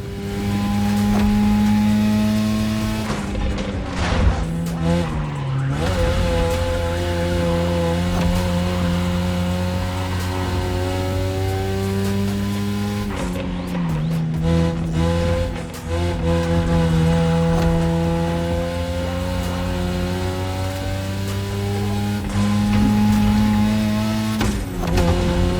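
Cars race in The Crew Motorfest, with engines droning loud and sustained, revving and shifting pitch through gear changes across the whole stretch, one prominent engine close up.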